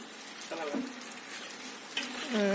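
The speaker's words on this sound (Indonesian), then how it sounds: "Jadi sala yang sudah dibulat-bulatkan tadi kemudian digoreng" Rounded sala lauak balls, a Pariaman snack, deep-fry in oil at a food stall, with a continuous crackling sizzle and occasional clatter, while voices talk nearby.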